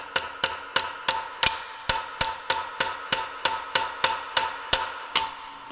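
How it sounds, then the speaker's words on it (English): Sharp metallic hammer blows pound a rivet down on a brake shoe with a riveting tool, about fourteen evenly spaced strikes in a steady rhythm, close and loud with no talk. "And then I'll pound it down."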